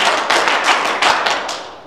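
Seminar audience clapping together in a quick rhythmic burst of claps, loud and close, slightly ragged in timing, fading at the end.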